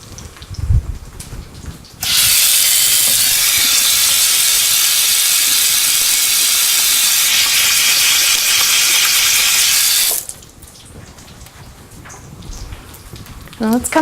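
Water from a kitchen tap runs in a steady, loud hiss for about eight seconds while someone washes their hands in the middle of cooking, with quieter room sounds before and after.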